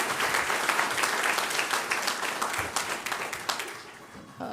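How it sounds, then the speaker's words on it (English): Applause from an audience at a courtroom adoption day celebration, a dense steady clapping that fills the room and tapers slightly toward the end. "Let's give her a big round of applause."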